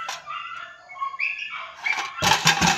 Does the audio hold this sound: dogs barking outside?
yes